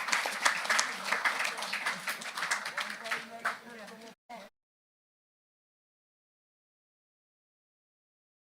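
Audience applause for a St. John's Academy performance at the opening of the Portsmouth Health & Wellness Centre, a dense burst of clapping from a crowd that fades and cuts off after about four seconds, followed by silence.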